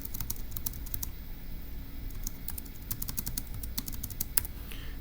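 Keys clack on a computer keyboard in fast, irregular bursts of typing, fairly quiet and close, with short pauses between runs and no one talking.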